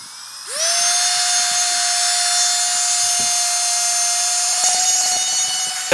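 A small electric vacuum pump spins up and then whines steadily at a high pitch while it compresses a travel packing cube, loud and close, with faint rustling and handling noises underneath.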